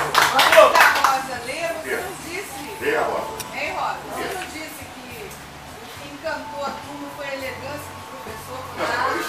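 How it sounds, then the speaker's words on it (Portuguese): Audience applause at a tribute ceremony for a teacher, a brief burst of clapping at the start under ambient crowd noise and speech, then fading to a murmuring room. "eu peço uma salva de palmas"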